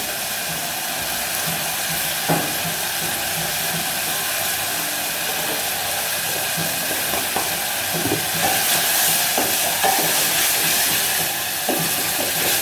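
Coconut sauce in a pan on medium heat gives off a steady, loud sizzle and hiss. It runs continuously with faint stirring scrapes and no talking.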